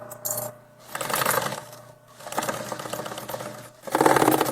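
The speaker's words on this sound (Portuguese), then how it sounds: "Sempre dá retrocesso no início e no final, para reforçar a costura" A sewing machine runs in short loud bursts as it backstitches a bag seam, with brief pauses between the runs of rapid stitching and no talking.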